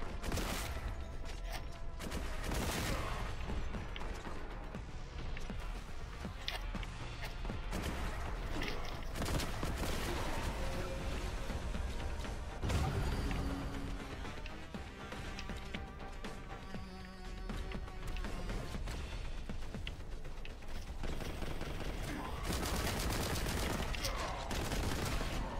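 Bolt gun firing in Warhammer 40,000: Boltgun, a long sustained barrage of heavy rapid shots and explosive impacts, loud and continuous amid game sounds.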